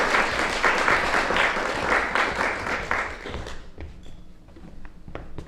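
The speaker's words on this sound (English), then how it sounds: "can I also have an applause for Mariam Maslouhi?" Applause from an event audience honoring Mariam Maslouhi: a dense burst of many hands clapping that tapers off into scattered claps after about four seconds, heard alone.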